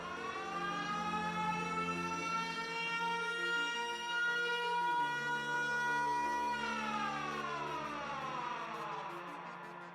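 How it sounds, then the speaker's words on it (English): Air raid siren wailing loudly and alone, a sustained rising tone holding steady before beginning to fall away toward the end. "Suddenly, at 7:57 a.m., a loud siren shattered the calm."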